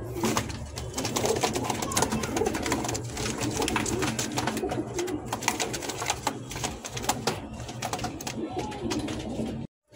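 Golla pigeons coo steadily and close by, their low murmuring calls running almost unbroken against a busy, rustling background.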